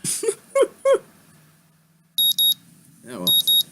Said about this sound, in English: The sound of an alarm pulls me out of a fitful slumber, into the unpleasant state of wakefulness.